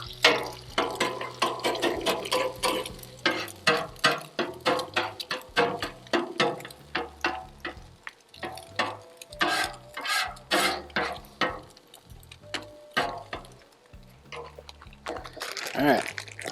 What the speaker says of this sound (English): let's get our egg going right in here and begin scrambling it right away